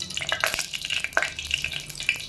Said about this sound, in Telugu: దీన్ని లైట్గా మనం ఫ్రై చేసుకోవాలి